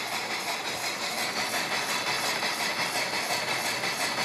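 A Bachmann 4-6-0 Big Hauler model locomotive with coal car runs steadily, giving a continuous whirring mechanical hum with a faint rhythmic chuff, close and even in level with no talk.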